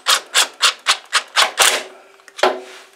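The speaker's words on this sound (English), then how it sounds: "now we can tighten this sucker up." Bolts on an engine's crank trigger are tightened with close, rhythmic ratcheting strokes, about seven quick rasps in a row followed by a pause and one more.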